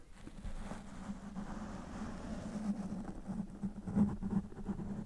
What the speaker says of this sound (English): take this makeup brush and we just gently rub it across the mic